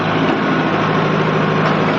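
Tractor pulling a Deep Agro soil-turning plough with sharp blades through a field, a steady, loud, dense engine drone with grinding noise that continues without a break.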